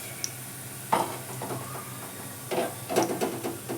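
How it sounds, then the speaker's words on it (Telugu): Corn kernels frying in hot oil until crispy, with a faint crackle broken by clattering stirs and scrapes of a utensil against the pan in short bursts. "సౌండ్ విన్నారా క్రిస్పీగా వచ్చేస్తాయి మనకి మంచి ఈ విధంగా మనము మిగతా కార్న్ని కూడా వేయించుకుందాం"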